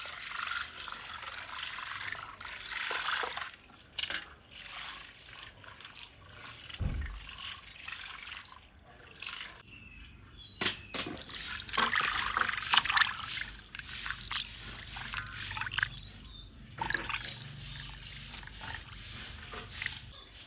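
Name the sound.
water running while washing prawns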